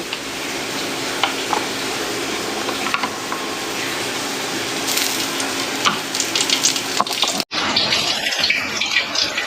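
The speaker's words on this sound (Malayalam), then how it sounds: "ഇതിലേക്ക് നമ്മൾ സവാളയും പച്ചമുളകും വെളുത്തുള്ളിയും ഇഞ്ചി എല്ലാം കൂടി ഇട്ട്" Onion, green chili, garlic and ginger sizzle in hot coconut oil in a pan, a loud, crackling fry with scattered pops that briefly cuts out and then resumes.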